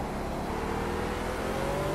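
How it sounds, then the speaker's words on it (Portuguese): Pagani Huayra engine in the Project CARS racing game at Mazda Raceway, a steady loud drone with rising harmonic tones as it accelerates, continuous and close throughout. "O som do motor também é espetacular."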